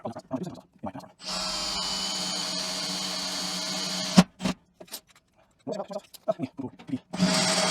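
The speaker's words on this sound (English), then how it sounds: "Let's drill." A power drill whirs in a steady burst for several seconds, then short stop-start bursts follow, ending with another sustained whir.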